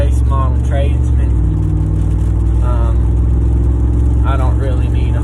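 A 2018 Ram 1500 Tradesman two-wheel-drive pickup with a 5.7 Hemi V8 and straight pipes idles with a loud, deep, continuous exhaust rumble while someone talks over it.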